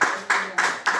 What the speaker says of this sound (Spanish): Yo aplaudo